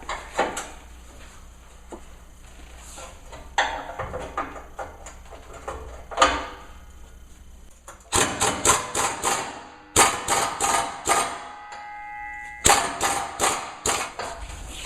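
A combination wrench works a Jeep body mount bolt with repeated quick metallic ratcheting clicks and clanks, coming in bursts with short pauses, close and moderately loud.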